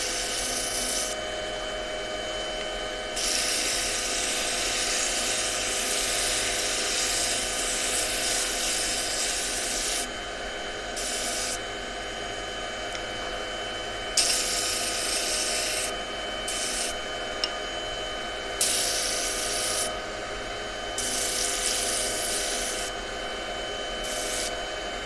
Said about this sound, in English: And just sand these nibs away. This is 180 grit.